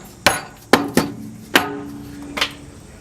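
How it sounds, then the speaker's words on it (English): A hammer taps SuperSkirt skirting tabs in tight during installation, giving four sharp, close strikes in quick uneven succession and a fainter fifth knock, with no talking. "What I use sometimes is a hammer to tap these in tight."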